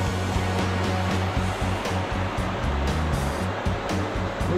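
River water rushing through the Zion Narrows canyon in Utah, a loud, dense, continuous flow with splashing, heard close and steady without talk.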